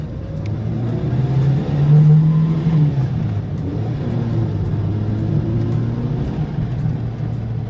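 A 1974 Seat 133's small engine revs up and down close by, a continuous throaty rumble rising in pitch briefly before easing back.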